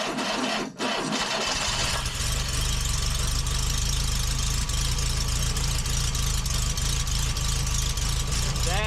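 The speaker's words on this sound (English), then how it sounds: "You can see every time that mechanical pump hits a stroke." A 1972 Fiat 850 Sport Spider with a mechanical fuel pump running, giving a steady, continuous engine drone with a faint rhythmic ticking and a thin high squeal, loud and close throughout after a brief dip near the start.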